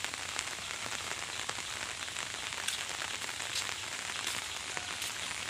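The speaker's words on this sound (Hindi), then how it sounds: "देख सकते हो, बारिश गिर रहा है।" Steady rain falls outdoors as a continuous dense patter, with scattered sharper drops, and no voices are heard.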